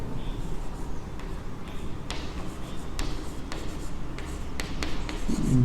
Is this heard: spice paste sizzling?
no